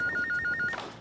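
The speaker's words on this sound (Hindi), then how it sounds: "पता नहीं किस मनहूस का फोन।" A telephone rings nearby with a rapid warbling electronic trill, several quick repeated pulses lasting under a second before cutting off, with no talk over it.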